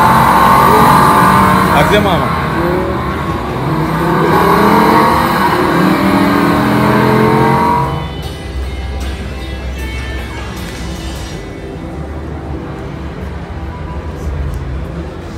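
A car engine revs at the Los Angeles auto show 2020, a loud, rough engine roar over the first eight seconds that then drops to a lower idle rumble amid hall noise, with people talking nearby.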